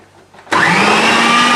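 After a quiet moment, a blender or food processor snaps on loud and close, grinding bread into breadcrumbs with a steady high whirring drone.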